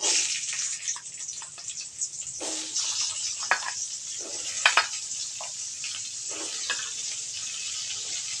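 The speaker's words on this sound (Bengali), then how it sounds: "এই তেলের মাঝে আমি বরবটিগুলো হালকাভাবে ভেজে নেব" Yardlong beans lightly frying in oil make a thin, airy hiss with scattered soft crackles and a few brief scrapes, fairly quiet and steady, with no one talking.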